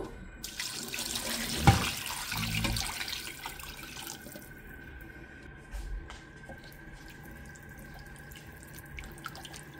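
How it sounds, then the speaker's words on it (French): Water pours into a cooking pot of vegetables, a splashing, gushing stream that is loudest over the first few seconds and then fades to quieter trickles and drips. "maintenant je vais couvrir d'eau"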